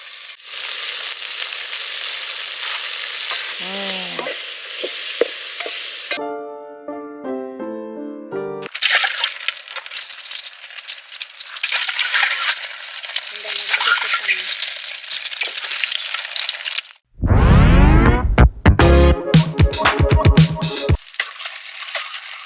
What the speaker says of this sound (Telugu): ఉల్లిగడ్డలు, ఉప్పు, టమాటాలు వేగిన తర్వాత మనం పచ్చిమిరపకాయలు వేయించుకోవాలి